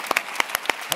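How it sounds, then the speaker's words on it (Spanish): Audience members at a digital journalism congress clap in a sparse, quick burst, individual hand claps standing out close and fairly loud over roughly a second. "que te demos un aplauso"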